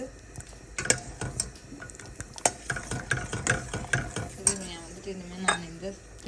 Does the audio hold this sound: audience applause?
no